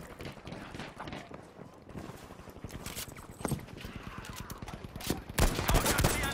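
Rifle fire from an M1 Garand in the Battlefield V video game, sharp gunshots cracking amid a busy stream of battle noise with other bursts of gunfire, loudest near the end.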